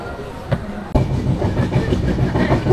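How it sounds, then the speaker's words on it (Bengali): The Tamralipta Express 12857 from Howrah to Digha pulls out of Santragachi station, heard from on board as a jolt followed by a steady rhythmic clickety-clack of wheels on rails and a rumbling carriage. "সাঁতরাগাছি স্টেশন থেকে 2 মিনিট দাঁড়িয়ে এবার কিন্তু ট্রেন বেরিয়ে পড়েছে তার যাত্রাপথে"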